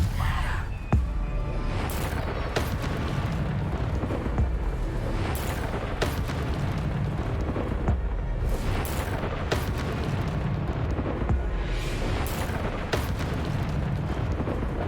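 Bombarda explosion spells in the video game Hogwarts Legacy, repeated heavy booms and bursts over a loud, constant game soundscape of battle noise.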